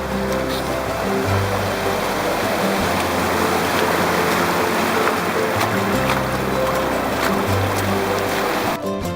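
A rain-swollen creek flows along and over a high mountain hiking trail in Colorado, a steady loud rushing wash of water close by that continues unbroken throughout.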